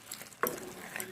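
Mushrooms with soy sauce are stirred in a pan and cooked without oil, with a short scrape of the spoon and soft sizzling over about a second.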